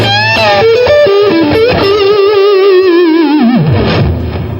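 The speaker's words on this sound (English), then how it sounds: "as you're vibbing the note, you're dipping it with the bar" A distorted electric guitar note shakes with wide vibrato while the whammy bar pulls it down, ending in a sliding drop and fade.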